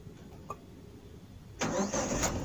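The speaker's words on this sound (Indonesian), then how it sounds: "Nah, kita starter mobil ya, starter mobil." A manual car's engine is started with the handbrake on, after a quiet moment with one faint click, then catches and settles into a loud, steady idle close by.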